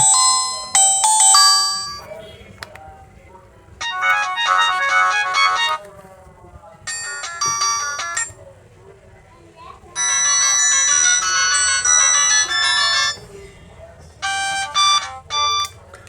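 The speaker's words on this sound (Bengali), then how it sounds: "আমরা বরাবরের মতো এই ফোনটির রিংটোন একটু শুনবো দেখবো যে সাউন্ড কেমন" A Symphony D54 Pro feature phone plays a series of bright, tinkling electronic melody tones in separate bursts, with a faint low hum underneath and quiet pauses between them.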